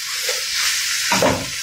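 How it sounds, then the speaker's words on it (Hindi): Fresh beans go into sizzling masala in a pot with potatoes, a loud close hiss that swells into a brief burst of stirring and crackling before settling, with no speech. "अब हम इसमें फ्रेश बीन ऐड करके इसको भूनेंगे"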